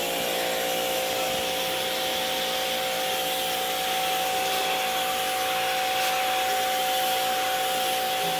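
A portable pressure washer sprays continuously while a split-type aircon unit is cleaned. It makes a loud, steady hiss and whine that stays even throughout, up close.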